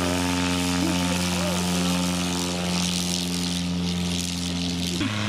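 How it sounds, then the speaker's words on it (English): A Dust Aircraft Super STOL propeller airplane drones steadily and loudly throughout, its engine pitch shifting slightly as it passes nearby. "Here he goes with the Super STOL."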